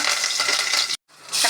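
Mustard seeds, cumin, turmeric, asafoetida and curry leaves frying in hot oil in a kadai, a loud steady sizzle and crackle that drops out briefly and then returns just as strong.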